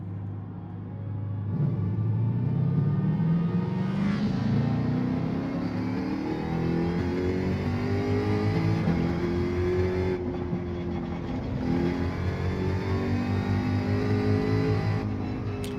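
Race cars in Gran Turismo 7 roar continuously at close range, with a prominent engine note climbing and shifting in pitch as the car accelerates, a steady loud drone throughout with no talking.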